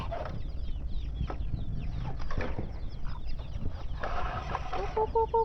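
Chickens on a Thai village farm cluck and squawk in short bursts over a steady outdoor background, with a few sharp repeated calls near the end.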